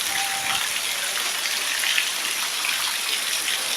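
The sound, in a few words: heavy rain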